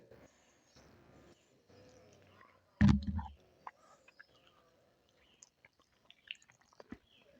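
Someone bites into crunchy, spicy beetroot fry with one loud crunch, then chews with small scattered clicks and crackles up close in an otherwise quiet room. Faint murmuring is heard beforehand.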